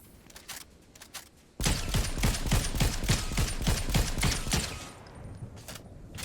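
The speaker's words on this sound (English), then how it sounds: "I love shooting people out of the sky with the pulse." Rapid sustained burst of pulse rifle fire in Fortnite Zero Build, loud and steady for several seconds before trailing off, with quieter game ambience before and after.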